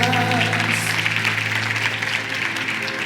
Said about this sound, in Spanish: denle un aplauso a la gente